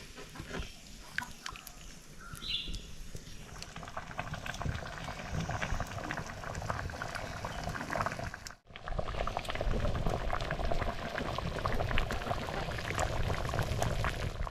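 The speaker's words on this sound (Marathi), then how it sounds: "आमटीला बघा मस्त असा कड आलेला आहे" Masoor dal amti bubbling at a rolling boil in a pot, a dense, continuous burble and gurgle, close and fairly loud, with a brief sharp drop-out midway before it resumes.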